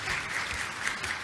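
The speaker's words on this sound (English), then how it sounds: "I want everybody to clap for Paul." Audience applause in a hall, steady and dense clapping sustained throughout without any voices on top.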